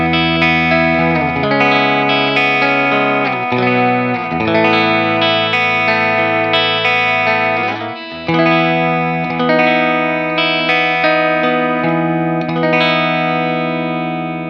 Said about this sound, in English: And then in the bridge, and this is just the split coil, again, nice jangly Fender tone.